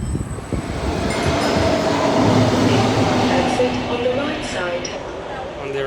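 Steady rumble of a São Paulo metro train in motion, a loud continuous roar with faint rail squeals, and people talking over it.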